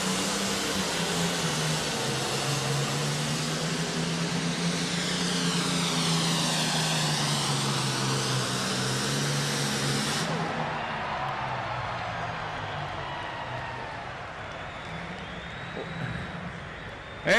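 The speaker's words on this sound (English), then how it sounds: "A good running tractor." Minneapolis-Moline pulling tractor at a farm tractor pull in Louisville, Kentucky, roars loudly under heavy load, its pitch swelling and dipping, then dropping to a quieter, fading engine rumble after about ten seconds.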